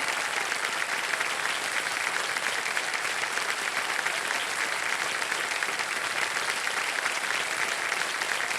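A studio audience on the KBC quiz show breaks into loud, sustained applause, a dense unbroken wall of clapping at a steady level from start to finish with no voices on top.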